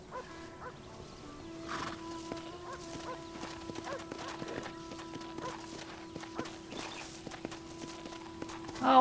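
Steady clip-clop of horse hooves walking at an even pace in the video game Red Dead Redemption, with a sustained musical tone humming underneath.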